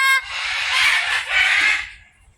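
A macaw at an outdoor bird park in Pensacola, Florida gives a loud, raspy, sustained squawk that rises and falls over about two seconds, close to the listener with no talking.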